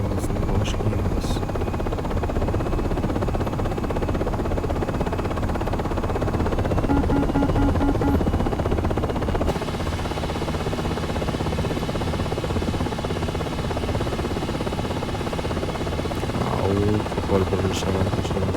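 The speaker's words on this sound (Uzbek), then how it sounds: "Vertolyot terminalda paydo bo'ldi. Biz sekin parvozni boshlaymiz." Presidential Marine One helicopter in the Aerofly FS Global flight simulator, flying slowly over Washington: a steady, loud rotor drone and engine whine running continuously throughout, with some talk heard under it.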